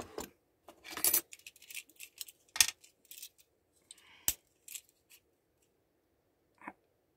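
Scissors cutting white cardboard for a Christmas direction-sign decoration, heard as a series of close, crisp snipping and rustling bursts with pauses between, ending in a quiet stretch with one last faint cut.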